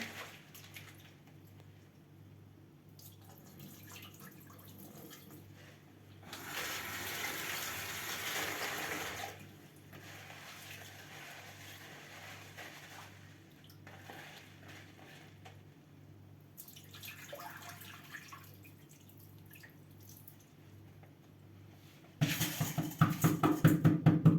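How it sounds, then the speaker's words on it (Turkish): Lentils being rinsed under running tap water, a steady soft stream with brief louder surges of splashing and a sharper burst of water near the end. "Şöyle mercimeğimizi güzelce yıkayalım."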